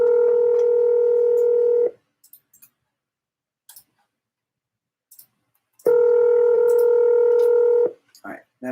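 A telephone call rings unanswered: two loud, steady ring tones about two seconds long each, separated by roughly four seconds of near silence with faint clicks, heard through the line.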